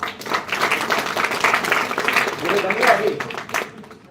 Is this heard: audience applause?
yes